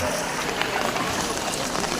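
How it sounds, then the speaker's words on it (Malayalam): Steady rain patters densely and evenly across a surface at Kottiyoor temple, a close, continuous hiss filling the short stretch. "നല്ല മഴ എത്തിത്തുടങ്ങി"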